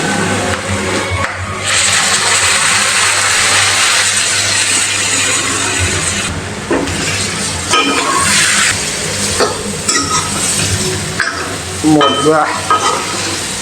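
Spice paste of red chili, cumin and coriander powder mixed with water, poured into a hot pan of pork, sizzling and frying loudly and steadily with stirring scrapes, a brief voice near the end.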